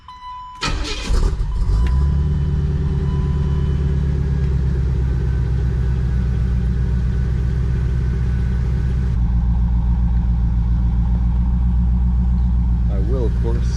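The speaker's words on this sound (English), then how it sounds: "I will go ahead and start up the car, get her warmed up" A C4 Corvette engine cranks and fires, then settles into a loud, steady, deep idle as it warms up, the rumble close and continuous to the end.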